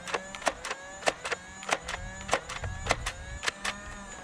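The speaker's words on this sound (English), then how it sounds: "Getting into the firing demo, I'm going to start out with the included 6 darts" A Nerf Elite 2.0 Phoenix blaster fires its six Elite darts in a rapid series of sharp, close mechanical shots, each a bright crack with a short rattling tail, about a dozen bursts spaced unevenly over a few seconds.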